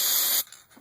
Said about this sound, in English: So what the mechanic here at Medevac 9 has been doing is to spray this